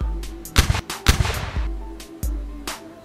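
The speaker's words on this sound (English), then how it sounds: "Toy pistol." A realistic police toy pistol fires several sharp, loud shots in quick irregular bursts, each crack ringing briefly before the next, with no talking.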